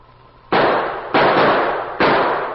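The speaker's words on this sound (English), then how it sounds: "The gunshots blasted the silence of the wilderness." Three loud, sharp gunshots ring out one after another as a radio-drama sound effect set in the wilderness, each with a brief decaying echo, and nothing else heard.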